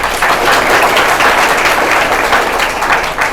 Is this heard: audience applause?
yes